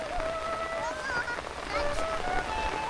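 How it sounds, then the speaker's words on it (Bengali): Steady rain patters on surfaces outdoors at a rural homestead, a continuous soft hiss throughout, with faint bird chirps threading over it. "বৃষ্টিতে ভিজো না"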